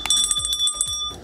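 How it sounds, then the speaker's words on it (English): A bright electronic bell chime, like a bicycle bell, rings in quick repeated strikes with long ringing tones, loud and close with no talking. "That one was loud. Is that the new bell?"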